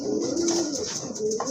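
A breeding pair of large-feathered running pigeons coos at close range in soft, throaty, repeated calls, with faint background noise and no voices.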